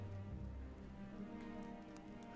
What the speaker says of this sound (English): Oh, here comes the rain again.